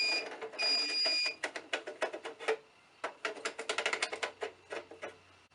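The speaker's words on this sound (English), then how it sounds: "It's going to make a few little beeps" A series of short electronic beeps from an Ideal circuit breaker finder, a few long tones then rapid clustered chirps with clicks, close and fairly loud.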